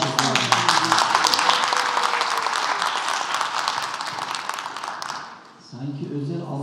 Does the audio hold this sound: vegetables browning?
no